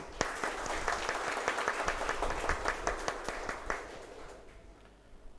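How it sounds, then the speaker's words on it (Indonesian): A seated audience at a formal university address claps briefly, with distinct individual claps standing out in an uneven rhythm before the sound fades out after about four seconds. "Mohon tepuk tangan untuk UNU."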